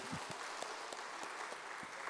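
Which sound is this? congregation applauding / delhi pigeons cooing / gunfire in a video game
congregation applauding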